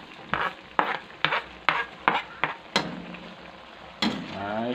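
A spoon stirring braised pork with duck eggs and spring onions in a pot, a series of distinct scraping and clinking strokes at a steady rhythm over a faint simmer, up close.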